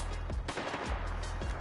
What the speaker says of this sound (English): Of course I was gonna get sniped by this dude.